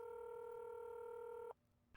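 A steady two-tone telephone dial beep sounds in a Nancy Drew museum mystery game, holding for about a second and a half before cutting off abruptly into near silence.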